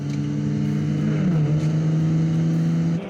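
A historic race car roars up a hillside track, its engine note holding steady then dropping and rising again as it shifts, loud and close, with other cars in the bunched field behind.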